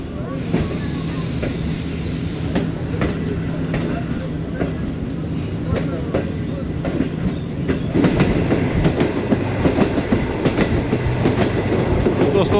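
The Awam Express passenger train with its new rake runs on the rails between Attock City Junction and Hasan Abdal, a steady loud rumble with rhythmic clickety-clack that grows heavier partway through.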